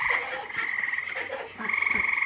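Tree frogs croak in a steady, dense chorus while waterfowl are rounded up outdoors, the calls pulsing loud and close with a brief dip before swelling again.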